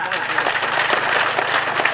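An audience at an installation ceremony for Ayong Taman Sekadau claps steadily, a dense continuous wash of applause with some voices mixed in throughout.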